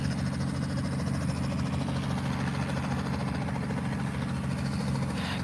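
A Piper PA-28 light aircraft engine runs at Elstree Aerodrome, a steady, loud, throbbing drone that stays constant throughout without pauses.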